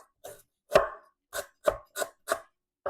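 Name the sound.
knife thinly slicing lemongrass stalks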